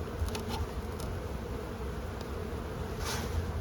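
Honey bees buzz around a beehive in a steady, dense hum of many insects, with occasional individual bees passing closer and briefly louder.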